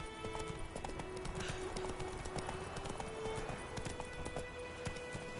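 Roach the horse galloping in The Witcher 3, a rapid driving clatter of hooves that stays steady and close from start to finish under a faint game tone, with no speech.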